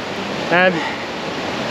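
A waterfall along a gravel cycling loop gives a steady, broad rushing roar that fills the whole clip at an even level, with a brief voice cutting in partway through.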